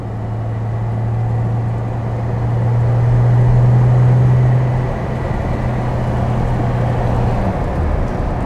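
A 1970 Mercedes 280 SL Pagode with a manual gearbox is being driven, its engine a steady low drone heard from inside that swells slightly midway and then settles.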